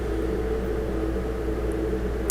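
A steady, low mechanical hum of an air conditioner drones on without change, slightly muffled as if coming from another room.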